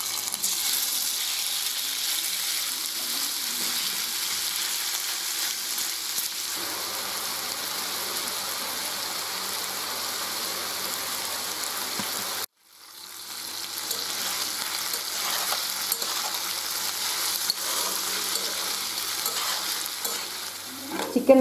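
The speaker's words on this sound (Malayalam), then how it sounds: "ചിക്കൻ നല്ലോണം ഫ്രൈ ആയി." Chicken frying in oil in a pan for a Thalassery-style semolina chicken biryani, a steady close sizzle that briefly cuts out and then resumes with stirring.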